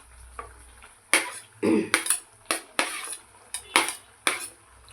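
A metal spatula scrapes and clanks against a pan as soybeans are stir-fried, giving a series of sharp, close taps and scrapes with short pauses between them.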